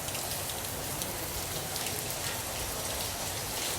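Steady rain pours onto an empty street, a dense even hiss of drops spattering the pavement close by, continuous and alone with no voices.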